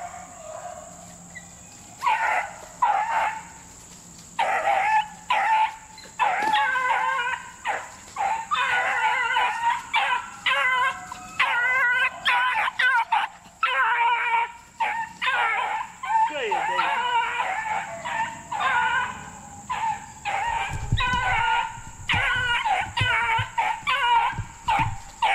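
Beagle puppies bark, yip and whimper in near, repeated bursts with drawn-out whining howls, while people talk over them almost throughout.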